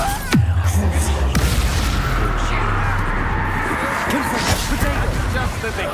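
Booming spell explosions from Expulso and Confringo in the Hogwarts Legacy game burst with a heavy low thud near the start, then continuous rumbling blasts carry on under loud talking.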